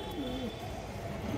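A male pigeon coos softly, a brief low warbling call sitting faint within steady background noise; no talking.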